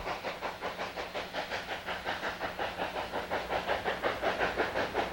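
A narrow gauge steam locomotive of the Durango & Silverton railroad chuffing in a steady, rapid rhythm of hissing puffs, continuous and fairly loud, with a faint mechanical rumble beneath.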